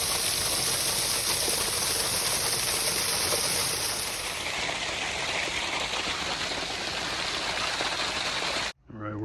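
Waterfall at Pomme de Terre Dam swollen after a good rain: a loud, steady, close roar of rushing water that runs unbroken, then cuts off abruptly near the end.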